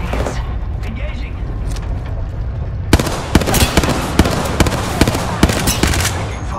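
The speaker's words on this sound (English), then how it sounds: "Taking fire." Gunfire in the video game Lifeline, a run of sharp close-up shots and bursts crackling over a busy game soundscape, with speech-like voice activity mixed in.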